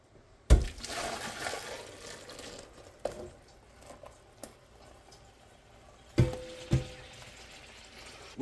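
Hot maple syrup is poured into the top of a filter press, making a soft, steady liquid pour with a few sharp knocks and clunks of equipment, close by and with no talk.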